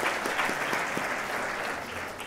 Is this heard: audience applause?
yes